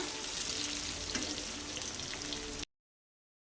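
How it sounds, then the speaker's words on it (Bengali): Pointed gourd pieces fry in oil in an iron kadai, giving a dense, even sizzle with fine crackles close to the microphone for under three seconds before cutting to silence, with no talking. "দেখো পটলগুলো কি সুন্দর ভাজা হয়ে গেছে"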